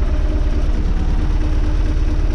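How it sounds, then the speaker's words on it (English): A tractor loader's diesel engine runs steadily nearby, a loud, even low rumble that holds throughout with no change in pace. "let's get in the tractor and have a go at moving this lot"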